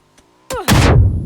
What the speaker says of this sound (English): a nade coming in from Vegas is going to do a lot of damage onto him